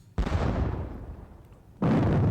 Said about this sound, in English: 12 pounders will lay down point blank fire on these guys.